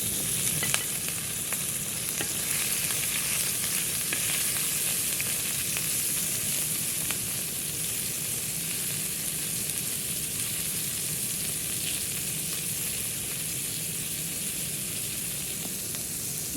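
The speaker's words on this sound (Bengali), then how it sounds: "তেল গরম হয়ে গেছে এখন তেলে মাছ দিয়ে দিব" River puti fish frying in hot oil in a village-style Bangladeshi kitchen, a dense continuous sizzle with crackling pops at a steady, close level for the whole stretch, no voices.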